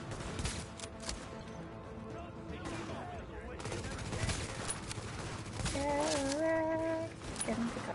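Bursts of carbine gunfire in The Division video game, rapid shots fired in quick strings at fairly close range, mixed with game effects and a brief tonal sound near the end.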